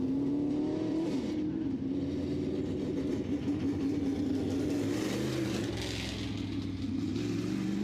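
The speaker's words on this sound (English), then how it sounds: "Two more cars making their way out here onto the racetrack right now." Late Model stock cars circle a short oval track during qualifying at a memorial race, their engines droning continuously with a steady roar and slight pitch shifts as they pass, loud and unbroken throughout.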